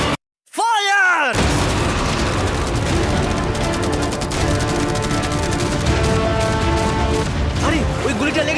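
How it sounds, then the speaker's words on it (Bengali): Massed video game fire from fireworks, arrows and catapults strikes a yacht. A dense, continuous barrage of crackling bursts and booms follows a brief silence and a short whooshing launch, with excited voices talking over it. "অনেক ফায়ারওয়ার্কস, অ্যারো এবং ক্যাটারপুলস, এই সব একসাথে তোমার ইয়টের দিকে এখন ছোড়া হবে।"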